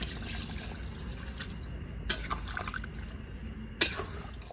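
Water poured into a simmering chicken curry gravy cooked with raw and ripe mango, a steady faint wet trickle with a couple of sharper splashy drips, no voices.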